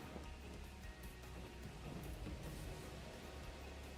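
Steady rain pouring in a video game during a Pokémon Legends Arceus-style alpha hunt, a dense continuous hiss of falling water with low rumbling underneath, heard alone without talk.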